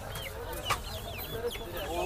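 Pakistani-breed chicks at a poultry market near Hemayetpur, chirping and clucking in a busy cluster under a constant crowd murmur, with a sharper nearby peep or two standing out.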